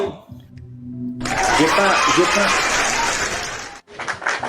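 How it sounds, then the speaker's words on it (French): Brief burst of hand clapping from a small group lasting a few seconds, with light laughter mixed in and a voice before it starts. "je vais applaudir pour toi"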